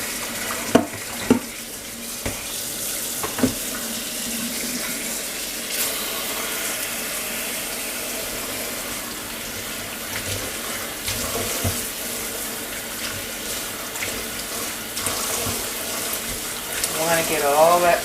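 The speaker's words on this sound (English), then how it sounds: "So I rinse it several times." Tap water runs into a sink while produce is rinsed, a continuous splashing rush with occasional knocks and handling noises, growing a little louder near the end; faint talk may sit under it.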